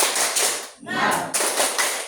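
A group of classmates does a short rhythmic spirit clap on a count, with quick bursts of claps, a brief pause, then another burst, loud and close.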